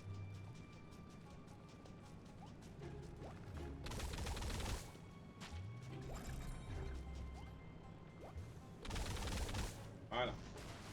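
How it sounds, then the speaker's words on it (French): Cannon fire in the Skylanders Trap Team video game, a few loud booming bursts standing out against clicking, ratcheting game mechanisms and background music, with a voice talking over it. "C'est l'autre canon qu'il faut utiliser."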